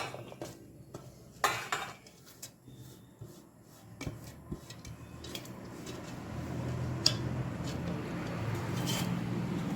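Churumuri puffed rice ingredients being mixed in a bowl, with a spoon or hand scraping, clinking and rustling in irregular bursts that settle into a steady rustle.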